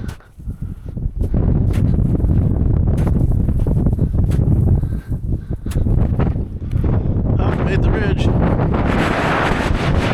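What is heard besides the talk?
strong wind on a mountain ridge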